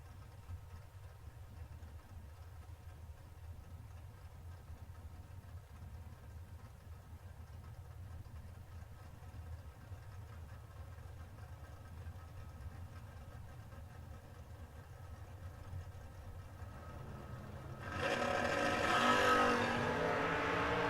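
A drag-racing Camaro idles with a low, rumbling burble for a long stretch, then suddenly launches down the strip in a loud, rising engine roar at the very end.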